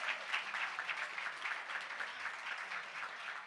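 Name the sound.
audience applause at birthday celebration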